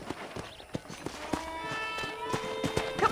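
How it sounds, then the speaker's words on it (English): Horse hooves in the Red Dead Redemption video game, a quick run of clip-clop beats over a busy ranch backdrop with sustained tonal hum, the hoof strikes fairly close and rhythmic. "I picked out a fine horse for you."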